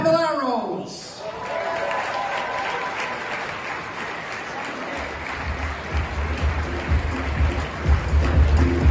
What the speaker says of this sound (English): give a warm round of applause to the president of Cure SMA, Susie, and the Caballeros